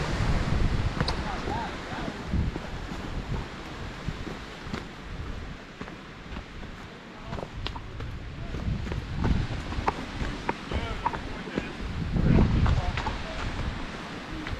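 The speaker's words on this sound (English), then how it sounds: "It's just way too windy." Strong wind buffets the microphone on an icy mountain trail in extreme winter winds, a loud continuous roar with gusts swelling and easing throughout, surging hardest near the end, with speech mixed in.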